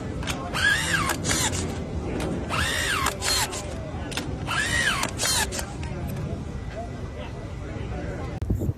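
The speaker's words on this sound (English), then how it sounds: "this showcases how capable it is at putting 12-inch GRKs with no pre-drilled holes straight through 6x6 cedar" An impact driver sinks 12-inch GRK screws into 6x6 cedar with no pre-drilled holes, making three loud hammering, ratcheting bursts with whining pitch sweeps and brief pauses between them.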